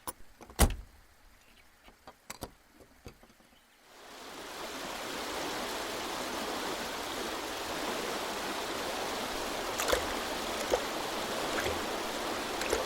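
Swollen stream water rushes steadily after a few seconds of near-quiet with scattered knocks and taps, the broad hiss holding constant and fairly loud to the end, with a few light bumps over it.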